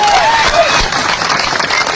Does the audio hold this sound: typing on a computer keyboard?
no